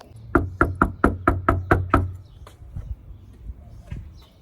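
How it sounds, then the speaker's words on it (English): Knuckles rap on a house's front door in a quick run of about eight sharp, evenly spaced knocks, loud and close, followed by a few fainter scattered taps and shuffling. "I want to go knock on the door,"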